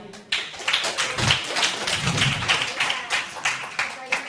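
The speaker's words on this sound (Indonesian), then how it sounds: "Kita tepuk tangan sekali lagi." An audience claps together at a religious debate event, with dense, steady applause filling the space from start to finish and no break in the clapping.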